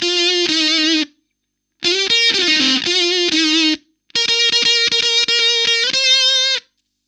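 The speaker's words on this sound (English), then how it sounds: "So with the Keeley fuzz bender into the Marshall," Electric guitar through a Keeley Fuzz Bender pedal into a Marshall amp plays a spitty, buzzy fuzz lead in three loud phrases of sustained bent notes, split by short silences.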